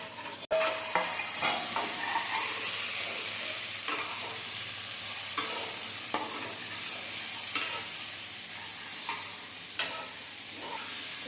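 Vegetables with curry leaves sauté in a pan for vegetable kurma, a continuous close sizzle broken by regular scraping strokes of a spoon stirring, with no talking.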